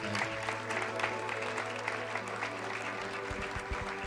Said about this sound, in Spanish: darle un aplauso fuerte a él